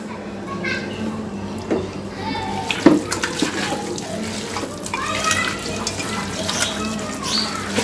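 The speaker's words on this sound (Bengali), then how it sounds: "জাস্ট সামান্য একটু হাত ধুয়ে আমি পানি দিয়ে দিলাম।" Hands are rinsed under a running kitchen tap during meat cooking, a steady close splash of water with faint voices in the background.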